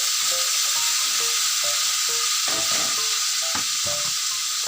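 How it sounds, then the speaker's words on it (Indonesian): Fish sizzling steadily in hot oil in a pan during home cooking, a loud continuous frying hiss with occasional pops and crackles throughout. "Jadi di video ini aku menggoreng"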